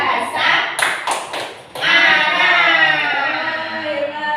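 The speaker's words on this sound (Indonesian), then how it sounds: "Tepuk tangan untuk kita semua" Children in a classroom clap hands in a few quick sharp bursts near the start, then someone talks on over a quiet room.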